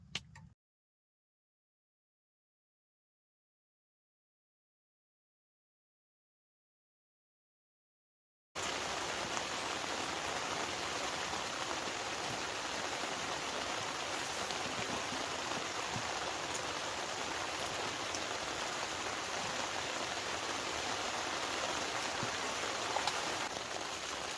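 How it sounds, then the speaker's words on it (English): Rain falls in a dense, steady patter on a tent close by, after a long stretch of near silence. "you can probably hear the rain. It's coming down."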